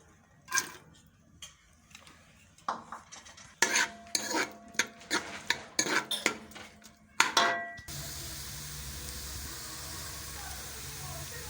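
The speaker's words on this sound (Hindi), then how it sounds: "प्याज हमारा फ्राई हो गया है।" A spoon scrapes and knocks against a pressure cooker as onions are stirred in hot oil, a series of sharp metallic clinks and scrapes in irregular bursts, then giving way to a steady, even sizzle of frying.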